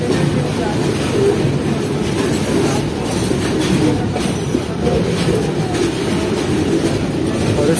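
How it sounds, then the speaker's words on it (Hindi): An up container freight train rolls past on the line near Lundo's outer signal during heavy rain, a loud, close, continuous rumble with rhythmic wheel clatter and occasional squeal sustained throughout. "जो कि एक अप कंटेनर ट्रेन है।"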